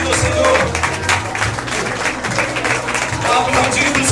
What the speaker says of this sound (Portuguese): Vá aplaudindo o Senhor.